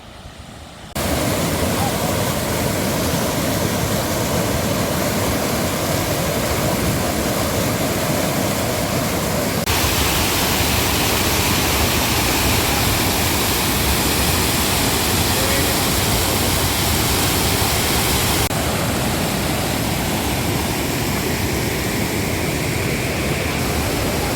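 The Ratanwadi waterfall roars continuously, a dense, loud rush of falling water filling the whole stretch without pause.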